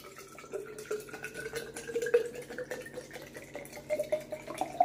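Water runs into a bottle with a few mint leaves inside, a steady trickling pour whose tone rises gradually as the bottle fills, close and moderately quiet.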